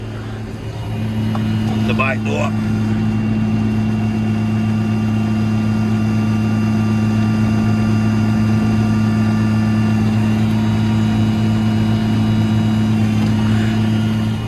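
A steady tractor engine drones loudly throughout with a constant low hum, revved up, briefly joined by a short voice and a clatter near the start.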